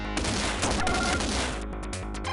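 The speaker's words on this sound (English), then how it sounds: "Whoops, threw a grenade" A grenade going off in a 1995 Stallone video game: a loud, dense roaring blast with crackling debris that holds for about two seconds before thinning out, with no voices.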